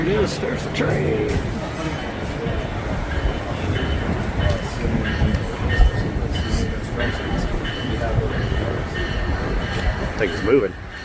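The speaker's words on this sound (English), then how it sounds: "There it is. There's the train." A train pulls into a station with a loud, steady rumble of wheels on rails, rattling carriages and occasional clanks, while people chat nearby throughout.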